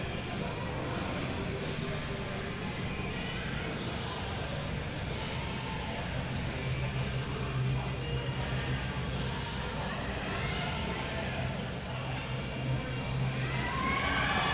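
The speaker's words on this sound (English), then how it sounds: "Crowd getting behind Dylan for this one." Spectators at a powerlifting nationals bench press event shout and cheer a lifter on, a sustained, moderately distant rumble of voices and encouragement with scattered shouts.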